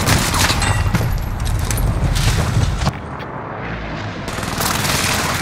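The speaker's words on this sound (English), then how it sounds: "Enemy precision airstrike." Precision airstrike explosions in Call of Duty Warzone rumble as a dense, continuous barrage of booms and crackling blasts, loud and close, then drop to a quieter, distant rumble partway through.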